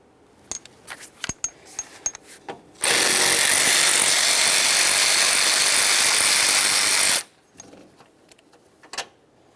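A power tool removing 10mm headed bolts on the radiator of a 1998-2011 Ford Ranger 2.3L: sharp clicks and handling clatter, then one loud, steady whir lasting about four seconds, followed by more faint knocks.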